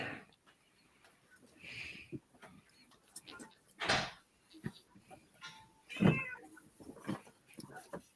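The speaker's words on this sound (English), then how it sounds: "I do hear the cat" A cat meows several times, loud and close, with short cries and a drawn-out yowl, among faint rustling and a few thumps.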